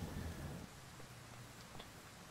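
Steady rain hiss in the Car Dealership Simulator video game, a constant broadband wash with a low rumble early on, moderately loud and unbroken throughout, no voices.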